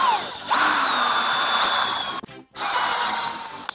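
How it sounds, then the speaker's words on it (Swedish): A power drill with a 3 mm bit whines as it bores holes through sheet metal for an electrical enclosure. The pitch rises as it spins up, cuts out briefly, then resumes, loud and close, with no talk. "Så jag kör med en 3 mm borr här just nu."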